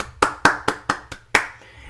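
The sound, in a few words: audience applause, hands clapping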